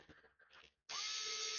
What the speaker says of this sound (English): I'm gonna drill a hole up here to mimic the hole that you see on butcher's cleavers